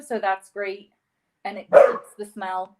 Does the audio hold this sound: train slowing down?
no